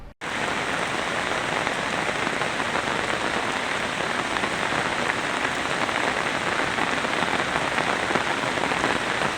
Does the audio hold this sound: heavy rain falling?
yes